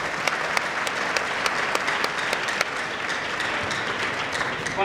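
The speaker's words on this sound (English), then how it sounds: "and a round of applause." An audience at a university anniversary book launch applauds steadily, a dense, even wash of many hands clapping from a moderate distance, with sharper individual claps standing out throughout.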